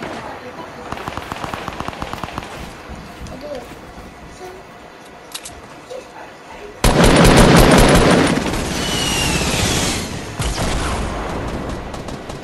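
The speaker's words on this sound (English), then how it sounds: "someone's trying to shoot me." Gunfire in the video game Fortnite, with light rapid shots early on, then a loud burst of heavy automatic fire and blasts in the second half, with a player talking over it.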